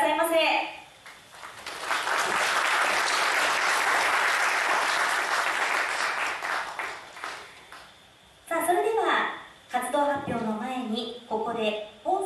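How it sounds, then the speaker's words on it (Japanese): An audience at a landscape symposium in Uchiko, Ehime, breaks into sustained applause welcoming a speaker to the stage. The dense clapping lasts several seconds, then fades as a voice begins talking. "皆様拍手でお迎えくださいませ。"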